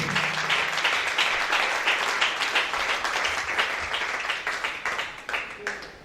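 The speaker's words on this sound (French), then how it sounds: "Put your hands together for Jesus." Church congregation clapping and applauding for Jesus during a healing testimony service, a steady dense wash of many hands close to the recorder, holding at an even level for several seconds before thinning slightly at the end.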